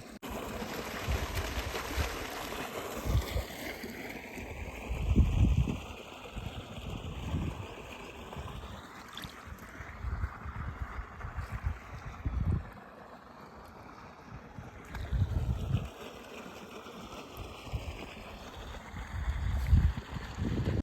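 Irrigation water flowing steadily into a cumin field at 70 days of growth, a continuous rushing wash with gusting, windy low rumbles and no talk.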